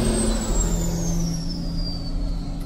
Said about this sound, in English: You got the screaming turbo